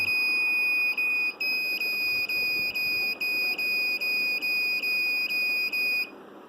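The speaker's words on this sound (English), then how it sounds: "Now we are going to show you first drowsy condition where buzzer will ring." A driver-drowsiness alert buzzer in a vehicle safety system sounds shrill electronic long pulses, roughly one per second, loud and steady with no voices.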